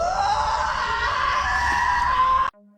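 Loud, continuous high-pitched screaming rings out in a foggy forest on a hiking trail, sustained for over two seconds before cutting off abruptly.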